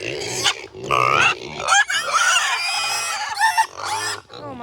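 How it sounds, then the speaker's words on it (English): Farm pigs grunting and squealing loudly and close up in repeated bursts, with rooster-like honks and squeals overlapping almost continuously. "The pigs are obnoxious today."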